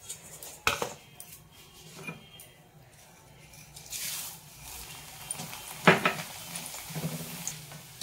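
A metal spoon scraping and clinking in a pan while spiced poha chura namkeen is stirred and tossed, soft scrapes with a few sharper clanks, fairly quiet and close.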